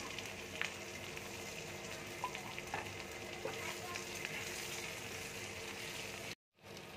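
Soybean chunks sizzle in a hot pan along with salt and slit green chillies, a steady, even frying hiss with a few small pops, lasting until a sudden drop near the end.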